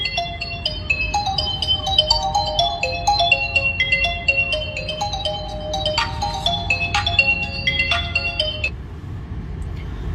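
A mobile phone left inside a Tata Safari rings with a bright, repeating melodic ringtone, loud and sustained over faint background rumble and without speech.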